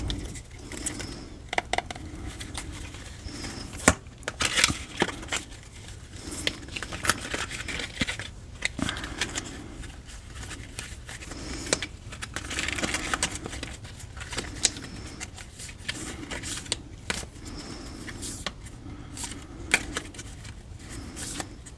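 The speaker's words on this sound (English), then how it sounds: "I'm going to shuffle these around a little bit every time, just for the randomness and for the fun card noises" Tarot cards riffle and slide against each other in repeated soft bursts, a continuous close shuffling with small taps, no voices.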